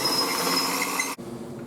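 A drill bores through heat-treated aluminum with a close, whirring, slightly ringing whine that stops abruptly after about a second.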